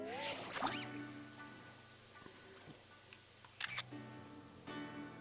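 In Pokemon Scarlet, a camera shutter snaps a photo: a few crisp, faint clicks stand out over quiet game music, with one more snap near the end.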